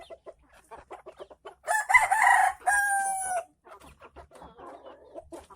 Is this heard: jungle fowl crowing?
yes